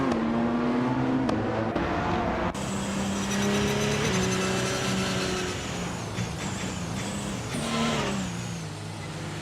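Race cars at Snetterton 200, a Porsche 919 Hybrid among them, roar past in overlapping waves of engine noise, pitches rising and falling as they accelerate and shift, loud and continuous with no voices.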